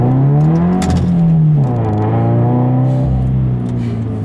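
A Subaru BRZ's engine blips and revs during a rev-matched manual downshift, the tone rising sharply then falling and settling into a steady drone, loud and close, with no talk.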